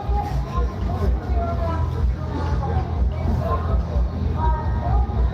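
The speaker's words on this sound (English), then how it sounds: "You can tell this crowd is getting a little bit rambunctious" A rambunctious protest crowd at night in Portland, with a dense murmur of many voices and scattered shouts mixed with a low traffic rumble, and nearby people talking over it.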